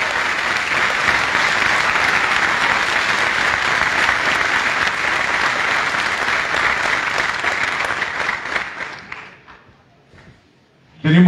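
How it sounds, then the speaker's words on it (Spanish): An audience at a folk dance performance in Villa Mercedes claps in a dense, sustained round of applause that fills the room for about nine seconds before thinning into scattered claps and fading out. "Cacho querido, Oscar Cacho Valles, presente con este saludo, con este aplauso de Villa Mercedes."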